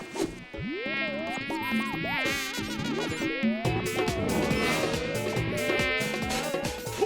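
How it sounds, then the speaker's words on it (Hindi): Mosquitoes buzz continuously in a Hindi animated cartoon, a loud close whine that swoops and wavers over a busy musical score throughout. "ओफो, फिर से मच्छर"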